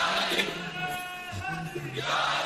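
A large gathering at a religious sermon gathering chants slogans in unison, a dense sustained roar of many voices with rising and falling emphasis, loud and close.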